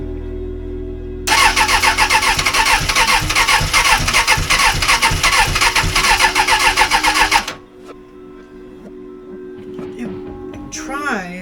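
A Suzuki Bandit 600 motorcycle engine is cranked over by its starter for several seconds in a loud, rapid churning burst, then cuts out, followed by quieter sputtering and people talking nearby.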